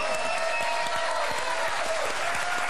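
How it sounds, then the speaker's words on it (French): The studio audience of a French TV quiz show applauds in a dense, steady roar of clapping that holds at an even level for the whole stretch. "Pas du tout, mais ça m'a fait du bien d'applaudir."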